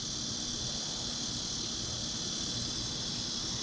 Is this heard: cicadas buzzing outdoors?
yes